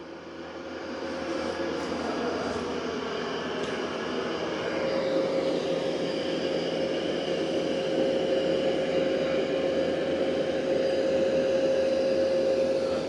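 An Ecovacs X11 Pro robot vacuum cleans long hair and heavy debris from carpet, its motor a steady droning whine with a constant tone, running continuously at moderate loudness.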